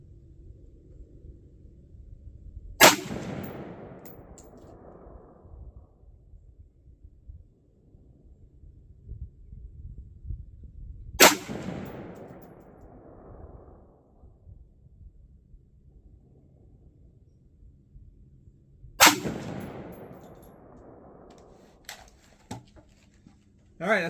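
Three widely spaced, sharp rifle reports from 5.56 AAC ammunition fired in slow five-shot groups at a target, each a loud crack trailing into a rumbling decay, with quiet low background between shots.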